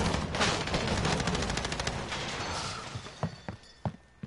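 Gunfire in Call of Duty Modern Warfare: a loud, sustained automatic burst rattles for several seconds, then thins into scattered, sharp single shots.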